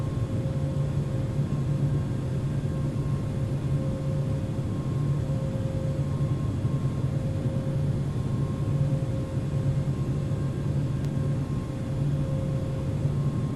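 Boeing 777-300ER jet engines in the Infinite Flight simulator hold a steady, even roar with a constant low hum and tonal whine throughout, alone and unbroken.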